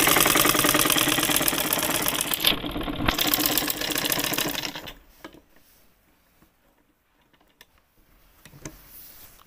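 A sewing machine stitches dress cloth in a fast, steady clatter for about five seconds, then stops, leaving near silence with a few faint handling sounds.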